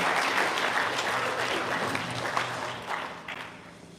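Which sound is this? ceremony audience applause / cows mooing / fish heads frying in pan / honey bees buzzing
ceremony audience applause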